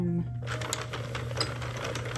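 A Sentro knitting machine is cranked by hand, giving a rapid, irregular series of light plastic clicks and ticks just after a brief tone fades.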